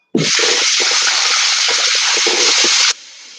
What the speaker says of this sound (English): Let me rinse my spoon fork off again.